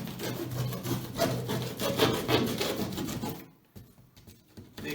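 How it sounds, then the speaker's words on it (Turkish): Cardboard being cut for the door of a children's playhouse, a rough rasping scrape that runs steadily and close for about three seconds before stopping, followed by near quiet with a few faint handling sounds. "Şimdi bunun kesimini yapıyoruz. Evet hemen başlıyorum. Buradan kesiyorum."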